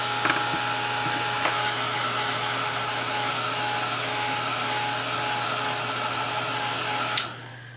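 A hair dryer blows steadily on freshly applied acrylic paint, a continuous close whir that holds evenly for several seconds before a click as it cuts off near the end.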